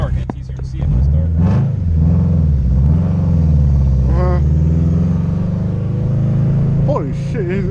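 A tuned 380-whp Subaru WRX STI on a night drive, its exhaust giving a loud, continuous low rumble from inside the car, rising and falling as the engine revs through gear changes, with a voice talking over it at times.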